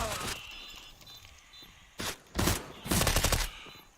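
Bursts of rapid gunfire in a Counter-Strike: Global Offensive match on the Inferno map, a faint spray early on followed by two louder sustained volleys near the end, with brief crackling in between.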